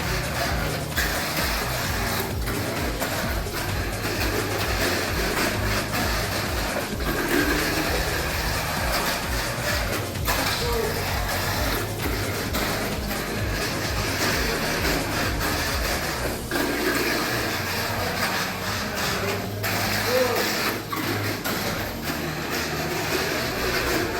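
A Tamiya Mini 4WD racer with a Power Dash motor runs laps on a track, a loud continuous high-pitched whirring buzz with rhythmic clicks and rattles throughout, no voices.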